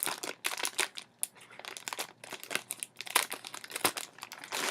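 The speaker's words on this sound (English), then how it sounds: "I got scissors just because I can't really use my knife. So I'll just cut along the top here." Scissors cutting along the top of a plastic mail package, giving close, dense crinkling and crackling of plastic in irregular bursts, with no voices.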